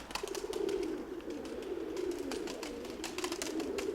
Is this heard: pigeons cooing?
yes